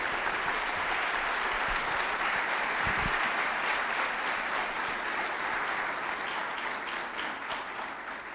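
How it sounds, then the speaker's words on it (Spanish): An audience applauds as a university rector is introduced to give welcoming remarks at a Honduran political event. Sustained crowd clapping runs throughout, steady and full, with a couple of low thumps near the middle and a gentle fade at the end. "Para él solicito un fuerte aplauso."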